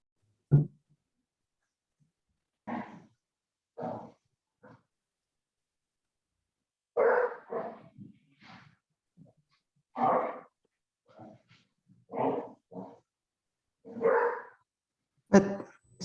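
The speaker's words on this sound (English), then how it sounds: "is that a dog barking?" Dogs bark in separate loud bursts, some in quick doubles, spread across a quiet indoor background with long silent gaps between them.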